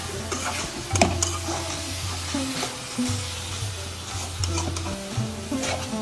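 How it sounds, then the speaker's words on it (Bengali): Shredded cabbage and egg sizzle in a frying pan while a spatula stirs and scrapes repeatedly, the frying hiss steady and close beneath the irregular stirring clatter. "এখন আমি সবকিছু ভালো করে মিক্স করে দিব, আর ডিমটা হয়ে যাবে।"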